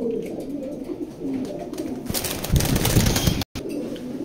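Pigeons in a loft coo in soft, repeated low calls, fairly close, with a burst of brief rustling or flapping midway and a quiet background throughout.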